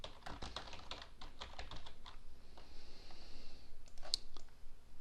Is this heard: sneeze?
no